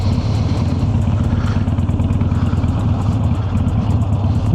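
A Harley-Davidson motorcycle on the road, its engine a loud, steady low rumble with rapid throbbing pulses, heard close up from the rider's position without any voices.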